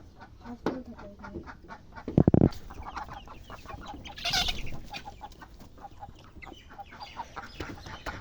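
Chickens and fowl cluck and squawk around a village home where ducks are kept. A loud burst of flapping or squawking breaks out partway through over scattered rustling and low background noise.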